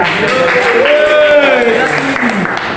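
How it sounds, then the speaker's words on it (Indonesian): Classmates applaud a student in a classroom, their scattered clapping running beneath a prominent voice that talks over it for most of the moment. "Tepuk tangan untuk Zaki."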